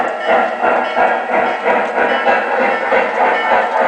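Several train engines haul a heavy load in a railroad simulation game, a continuous rolling rumble with a regular clicking rhythm, fairly loud and steady, with no voices.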